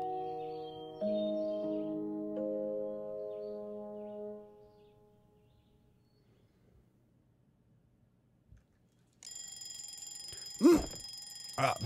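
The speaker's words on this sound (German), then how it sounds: "Ah, Wecker." An alarm clock rings in the video game A Bird Story, a bright, steady electronic ringing that cuts in loudly after a quieter musical passage and a near-silent pause, continuing to the end.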